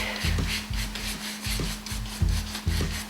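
Rhythmic back-and-forth rubbing strokes of a brush spreading soapy paint on glass, close and wet-sounding, repeating steadily about every half second.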